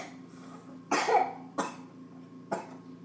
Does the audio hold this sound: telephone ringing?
no